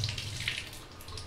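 Water rushes and splashes as it is drained off freshly boiled food in a home kitchen, a close, steady trickling pour with no voices.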